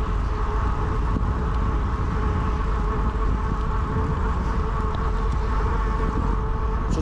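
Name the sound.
wind and road noise on GoPro 11 with Windslayer cover, biking downhill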